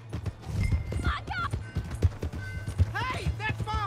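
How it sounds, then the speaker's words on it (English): A horse gallops in Red Dead Redemption 2 with a quick, uneven clip-clop of hooves, close up, while brief vocal cries break in over the hoofbeats. "Hey, that's my horse!"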